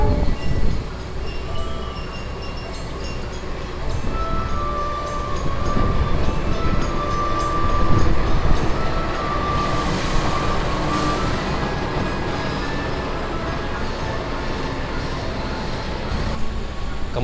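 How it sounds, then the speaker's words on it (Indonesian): The Tegal Bahari passenger train enters track 2 at Cirebon station, a broad, steady rumble and rattle of rolling railcars with clanking wheels and station ambience, sustained and loud throughout. "Masuk di jalur 2 stasiun Cirebon adalah kereta Tegal Bahari dari arah stasiun Tegal"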